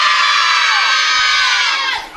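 A school crowd of children at a sports event screams and cheers together in one loud, sustained roar of high voices that fades slightly at the very end.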